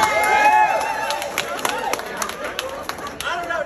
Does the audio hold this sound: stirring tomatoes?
no